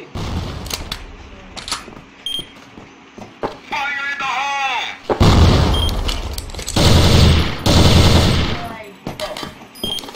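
Grenade explosion and gunfire in the CrossFire video game: scattered shots, then heavy sustained bursts of fire and a booming blast in the second half, with voices heard over the action.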